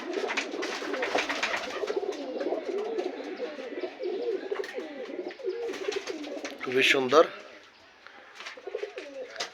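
Pigeons in a rooftop pigeon farm coo continuously in a thick low chorus while someone speaks over them, with a brief louder burst near the end before the cooing thins out.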